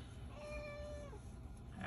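A house cat gives a drawn-out meow with a falling pitch, fairly close and clear over a low background rumble, with a faint rustle toward the end.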